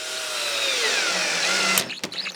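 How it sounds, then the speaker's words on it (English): A power drill drives a screw into wood for a coffee table, running loud and steady with a slowing whine, then stopping, followed by a couple of sharp clicks. "Sink a screw."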